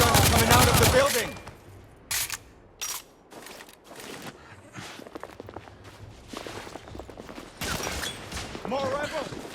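Shotgun blasts in the game The Order: 1886 come as scattered sharp bangs amid shouting voices, footsteps and a loud burst at the start, with intermittent shots throughout.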